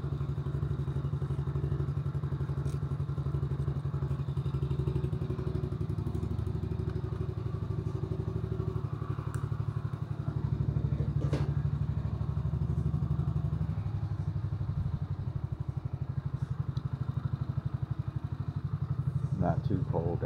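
Grom clone motorcycle being ridden in Nevada in November, a continuous buzzing engine drone with clattering and thumps over about twenty seconds, close and steady, with the rider talking throughout.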